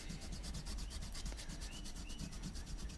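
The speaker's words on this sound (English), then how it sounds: "I just used a school eraser and take off this compound like that" A school eraser rubs polishing compound off a convex knife edge in steady back-and-forth strokes, a close, continuous dry scrubbing with a quick regular rhythm and no talk.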